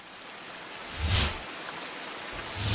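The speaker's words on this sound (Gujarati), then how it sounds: "ધોધમાર વરસાદથી નવસારી શાક માર્કેટમાં પાણી ભરાઈ ગયા છે" Steady hiss of heavy rain falling in Navsari, Gujarat, with a couple of low rumbling swells, no voices.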